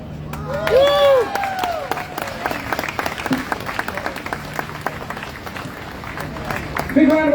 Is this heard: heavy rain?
no